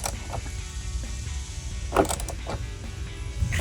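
A screw is driven in to mount a rear spoiler on a 2015-2023 Mustang, giving close, quiet ratcheting clicks and creaks with a brief sharper burst partway through.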